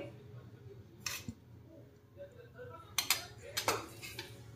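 Soybean chunks are tossed with cornflour and plain flour for a Khandeshi-style soybean chilli, giving soft stirring with a few sharp clinks of a spoon against a bowl, over faint background room noise.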